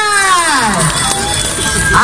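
The left-side crowd on Cathedral Square at an outdoor celebration answers with cheering and clapping: a sustained, loud wash of massed voices and shouts, with rising calls carrying across the open space.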